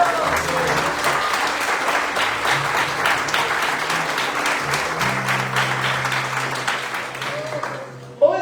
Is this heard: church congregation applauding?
yes